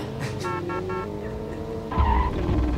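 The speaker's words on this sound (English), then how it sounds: "Oh, listen to the skid so you can go" Tires squeal as a car skids in the 1997 PlayStation game Grand Theft Auto, a sharp tonal screech over a steady engine drone, followed by a louder low burst of motor noise.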